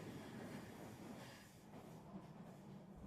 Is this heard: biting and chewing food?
no